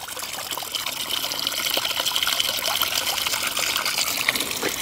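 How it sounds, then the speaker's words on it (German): Water gurgles and trickles steadily as it is sucked up through a LifeStraw Steel filter straw fitted with a carbon filter, close and continuous without talking. "Sauge dann Wasser an."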